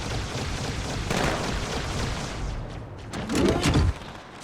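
Turret gunfire in Halo 2 Anniversary, a dense, continuous roar of shots and booms with a louder burst near the end, with no voices.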